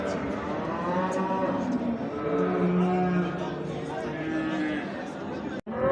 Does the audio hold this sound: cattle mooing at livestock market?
yes